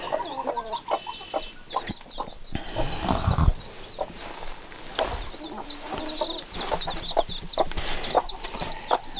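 Hens and fourth-generation chicks on a Wyoming mountain property in early spring give a busy chorus of nearby clucks and high peeping chirps, with scattered rustling and flapping underneath.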